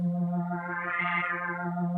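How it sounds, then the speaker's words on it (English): A Yamaha YC stage organ produces an FM tone shaped by its modulator drawbars, a sustained held chord whose bright sideband partials swell and fade in the middle, steady and alone. "See, it's adding that FM sound."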